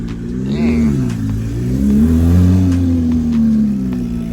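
A loud car engine revving at an outdoor car show, a deep throaty rumble swelling and easing with rising and falling pitch, close by.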